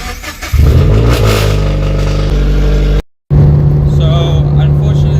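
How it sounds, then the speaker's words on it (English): A car engine cold-starts ahead of a track day, cranking and catching into a loud, rough idle; after a short silent gap the engine drones on with people talking nearby. "let's get a cold start"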